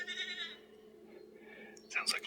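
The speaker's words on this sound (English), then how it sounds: "Sounds like a lost goat." A fallow deer gives a nasal, goat-like bleat, drawn out and wavering, heard close in open country, followed by a short breathy whisper.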